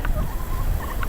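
Several farm hens give soft, scattered clucks and chirps at close range over a low rumbling background, with no talking.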